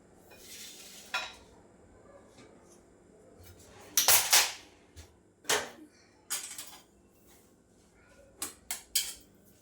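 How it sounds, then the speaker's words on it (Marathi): Cooked gram-flour vegetable being scraped and spooned out of an iron kadhai into another pot in a home kitchen: scattered metallic clinks and scrapes, several sharp bursts of utensil contact over a quiet background. "भाजी दुसऱ्या भांड्यामध्ये काढून घेते"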